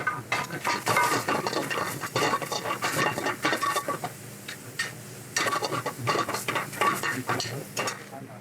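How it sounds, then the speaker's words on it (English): Confit tomatoes go into a pan of wilted oyster mushrooms, with continuous clattering and stirring of utensils against the pan under a steady sizzle. "we're going to add some of these beautiful confit tomatoes"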